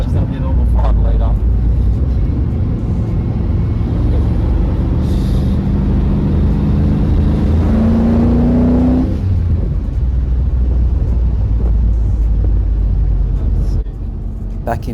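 The 5 litre V8 of a 1988 Holden VL Group A SV Walkinshaw revs loud and close, a deep rumbling drone that swells in pitch midway and then settles back, with no one speaking over it.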